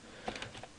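Brief, soft typing on a computer keyboard, a handful of light key taps heard alone in a quiet room.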